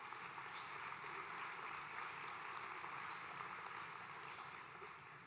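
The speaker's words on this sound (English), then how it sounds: "let's give them a round of applause." Steady, dense applause from an audience at the CCSD Starlight Awards evening, a continuous wash of clapping that holds for about five seconds before easing slightly at the end.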